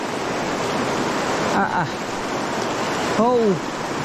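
Loud, steady rushing water roars continuously, with two brief shouted voices rising over it.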